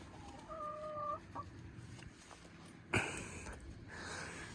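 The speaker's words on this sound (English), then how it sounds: "Chickens are getting used to the place." A few hens cluck quietly near a newly built chicken coop, with short tonal calls and sharper squawks spaced irregularly over a low, soft background; no one speaks.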